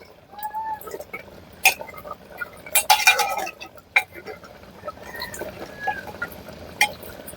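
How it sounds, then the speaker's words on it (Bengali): A spoon scrapes and clinks against a pot while buffalo meat and potato curry with garam masala is stirred, irregular metallic knocks and clatters over a low simmer, with no talk. "একটু ভালো করে নাড়াচাড়া করে নেবো"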